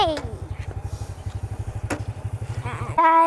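A motorcycle engine runs close by with a steady, rapid low putter that keeps pulsing, then the note jumps and thickens near the end as it revs, while people talk over it.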